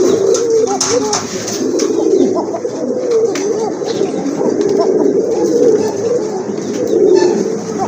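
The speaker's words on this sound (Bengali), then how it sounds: "এটা হচ্ছে আপনার অ্যারাবিয়ান কোকা কবুতর, খুব ভালো ডাকে।" Steady low cooing of Arabian pigeons repeats throughout, several birds overlapping in a continuous murmuring coo, fairly close, with faint chirps above.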